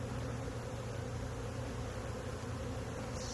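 Honey bees stirred up in a small two-frame queen mating nuc give a steady, dense buzzing drone, loud and close, with no voices.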